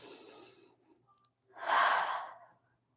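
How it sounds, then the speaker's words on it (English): Deep breathing during a restorative yoga session, heard as a soft breathy exhale fading out, then a fuller, louder breath swelling and tapering off; close and quiet, with no talking. "And we'll take a few deep breaths"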